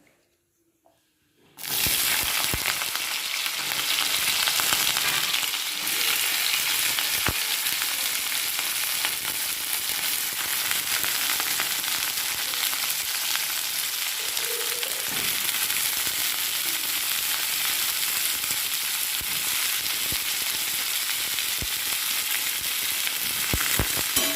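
Vegetables frying in hot oil in a kadai, a steady loud crackling sizzle that starts after a brief quiet moment and runs without a break, with occasional stirring scrapes.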